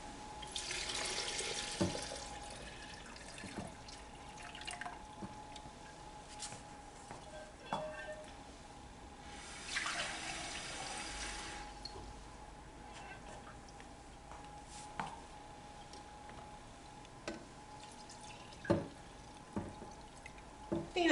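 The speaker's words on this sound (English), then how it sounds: "So we'll put our water in." Water pours into a container in short, soft bursts at a kitchen sink, with faint splashes and occasional clicks between pours against a quiet indoor background.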